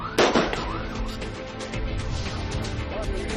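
Loud bangs and gunshots from police firing during a violent land clash between Indigenous people and farmers, one sharp nearby blast followed by a dense crackle of smaller pops over a few seconds.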